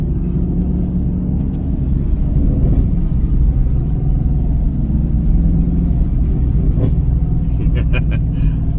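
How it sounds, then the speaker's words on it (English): A 2024 Chevrolet Camaro LT1 engine rumbles and revs loudly up close, its exhaust with secondary delete giving a throaty growl with a few sharp crackles toward the end. "the way the exhaust cackles at you when you let off of it really sounds nice"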